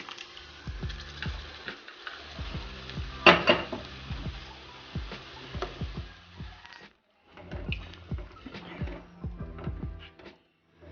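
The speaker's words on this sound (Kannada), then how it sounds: "ಇವಾಗ ಬೇಯಿಸಿದ ಬೇಳೆಯನ್ನು ಹಾಕೋಣ." Boiled dal (lentils) being added to a pan and stirred with a metal spoon: repeated clinks and scrapes against the vessel in an uneven rhythm over a faint sizzle, close and clear, with a short pause partway through.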